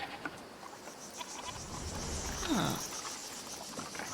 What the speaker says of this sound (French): Oh, allez, c'est une chèvre, pas un loup.